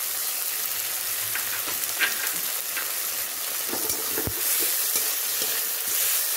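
Ginger-garlic paste is sautéed with a cooked-down tomato masala in a pan, a steady bright sizzle with scattered stirring scrapes and taps, close and unbroken, with no voices.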